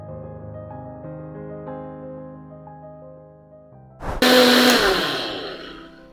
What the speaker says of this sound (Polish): chwilkę się ten mój koktajl musiał zblendować, ale myślę, że było warto